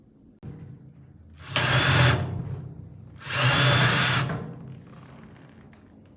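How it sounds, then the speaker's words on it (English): A power drill drives screws into the hinge of a small package box during assembly: two sustained whirring bursts of about a second each, loud and close, separated by a short pause with faint handling noise. "insert the 10 screws at each point."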